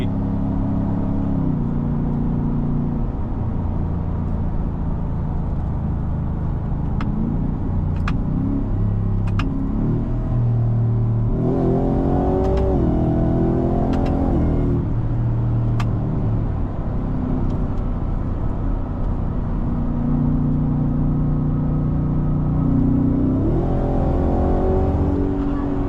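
A 2023 Ford F-150 Raptor R's engine pulls hard under acceleration, a loud continuous roar that rises and falls through gear changes, heard from inside the cab with no talking.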